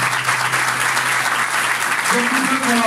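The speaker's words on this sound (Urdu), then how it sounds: "اگر تو یہ تالیاں خداوند کے لئے تھی تو یہ کم ہے" A church congregation applauds in a dense, continuous burst that stays loud throughout, and a voice starts speaking over it near the end.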